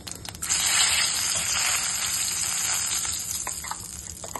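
Whole cumin seeds and a bay leaf sizzle in hot oil in a wok: a loud, steady frying hiss that swells up after a brief quiet start and holds, fading slightly toward the end.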